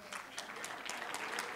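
A congregation breaks into unprompted applause during a church sermon. The steady, dense clapping lasts only a moment and sits fairly faint, with a hint of voices underneath.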